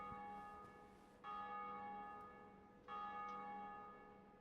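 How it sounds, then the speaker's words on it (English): A church bell in the Dark Souls video game rings out in slow, resonant strikes, two clear tolls each with a long sustained hum that lingers between them, heard alone and fairly faint. "Ring the bell of the undead church"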